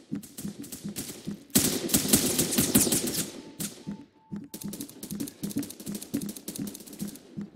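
Rapid burst-fire gunshots in the Phantom Forces video game, loud clusters of clattering shots in quick succession with brief pauses between bursts.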